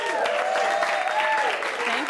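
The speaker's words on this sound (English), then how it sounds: "You can clap for that." Comedy club audience clapping and cheering during a stand-up set, a brief burst of applause mixed with whoops and overlapping voices.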